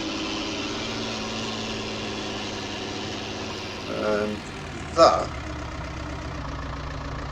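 Steady drone of a TW35 tractor alongside a 7840 on terra tyres during ploughing, a continuous mid-pitched engine hum with a brief louder swell, under a voice.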